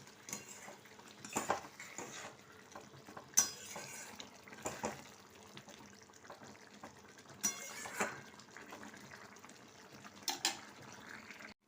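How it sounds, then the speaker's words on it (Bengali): Poppy seed and cashew paste goes into a soya rezala in a pan and is stirred, with a spoon scraping and clinking against the metal in soft, irregular strokes and a few sharper knocks, close and quiet with no talk. "এবার দিয়ে দেবো পোস্ত কাজু বাটা।"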